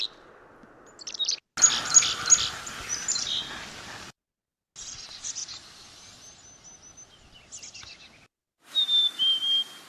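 Chickadee song played in short bursts, clear high whistled notes repeated in separate phrases with silent gaps between them, fairly close and distinct.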